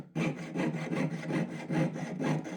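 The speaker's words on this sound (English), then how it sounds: "Cut the end of the ring shank open on each side, sawing until you reach where the scribed lines meet." A hand saw rasps back and forth in quick, even strokes, cutting a sterling silver ring shank, close up and steady, with no voices.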